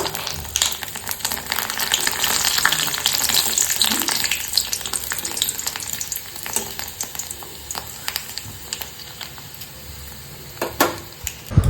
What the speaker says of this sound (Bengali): বললাম তো একটু পাঁপড় ভেজে নিই